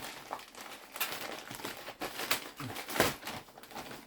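Plastic bags and bubble wrap crinkling while boxes of PSA packages are unpacked, with a steady run of close, crackly rustles and a few louder crunches and pops.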